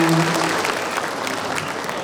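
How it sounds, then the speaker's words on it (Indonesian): An audience at a book-festival talk show in Depok breaks into applause: a dense, steady clapping that fills the room and slowly thins toward the end. "Kita berikan aplaus dulu untuk beliau."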